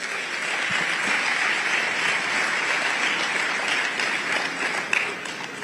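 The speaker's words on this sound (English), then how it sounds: "I think that calls for a big round of applause." Sustained applause from a large audience at a talk on India and US foreign policy, steady dense clapping that holds evenly at a fairly loud level throughout with no talk over it.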